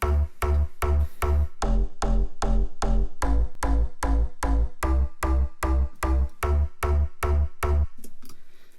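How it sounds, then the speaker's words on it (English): A full bass mix plays through the master bus in a music production session, a heavy, punchy line that thumps in a steady, even rhythm of regular pulses, then ends with a short decaying tail. "the full bass together sounds like this"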